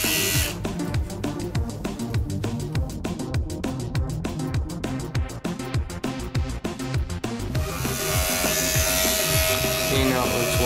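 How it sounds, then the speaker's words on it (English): An Andis SMC five-speed clipper runs with a noisy latch, giving a loud, rapid mechanical rattle over its buzzing motor that smooths into a steadier, brighter hum near the end. "The noise is the latch."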